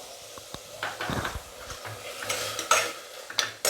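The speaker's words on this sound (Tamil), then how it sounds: "தக்காளி நல்லா வதங்கட்டும்." Tomatoes with salt sauté in a pan for rasam, heard as soft sizzling broken by irregular spatula stirring and scraping, fairly close and moderately quiet.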